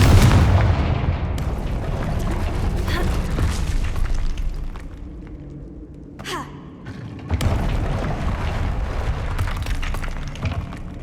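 A Confringo explosive spell cast in the Hogwarts Legacy video game sets off booming blasts, with a dense, roaring burst at the start, a brief lull around the middle, then another loud eruption that rumbles on to the end.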